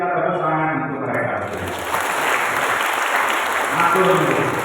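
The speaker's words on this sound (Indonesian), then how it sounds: "Kita tepuk tangan untuk mereka" Applause at a speech gathering, sustained and steady, with a crowd clapping throughout and some voices rising in the background.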